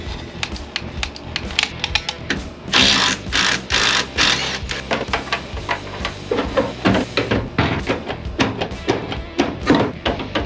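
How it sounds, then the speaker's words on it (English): A plastic cover is cut away inside a Chevy S10 truck cab, giving a loud, dense, rapid clattering chatter that runs nonstop with bursts of heavier buzzing. "I know I don't need this plastic cover anymore, so I'm gonna cut this off"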